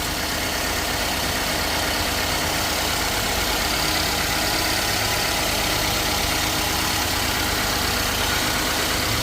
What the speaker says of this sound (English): I got the engine running and I'm checking for leaks.